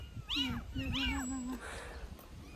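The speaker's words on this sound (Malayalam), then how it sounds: "കുഞ്ഞു പൂച്ച ഒച്ചയുണ്ടാക്കുക ഭയങ്കരമായിട്ട്" A kitten meows loudly twice in quick succession, each cry rising and falling, followed by a softer rustle, close to the listener in a village setting in Assam.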